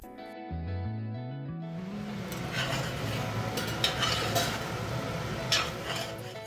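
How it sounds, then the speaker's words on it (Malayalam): Pork fry dusted with black pepper powder and stirred in a pan: after a brief rising musical phrase, continuous soft scraping and shuffling of stirring with a light sizzle, fairly quiet and close. "പോർക്ക് ഏകദേശം ഡ്രൈ ആയി വരുമ്പം ഒരു ഒന്നര ടീസ്പൂണോളം കുരുമുളക് പൊടി അതിന് മുകളിലൂടെ തൂകിക്കൊടുക്കണം ഇനി നല്ലപോലെ ചേർത്ത് ഇളക്കി യോജിപ്പിക്കണം"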